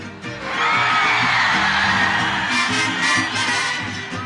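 Audience shouting and whooping on cue during a live mariachi performance, a loud sustained burst of crowd cries over the band that swells and stays strong for several seconds.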